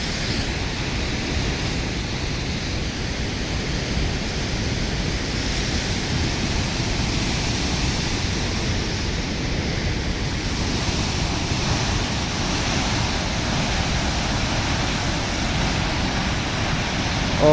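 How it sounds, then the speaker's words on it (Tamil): Huka Falls roaring as rushing water pours over it, a continuous broad wash of noise that holds steady and fairly loud for the whole stretch, with no talking. "இந்த தண்ணியோட சத்தமே உங்களுக்கு தெரியும்னு நினைக்கிறேன்."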